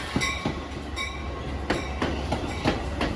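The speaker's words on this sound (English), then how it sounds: "Following its departure, our inbound train pulls in," Metra commuter train pulling into a station, its railcars giving off a steady rumble with repeated clickety-clack wheel beats over rail joints at fairly close range.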